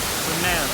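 A steady, rushing roar of falling water, loud and unbroken, from Punnayar Waterfalls in Idukki, heard from close by.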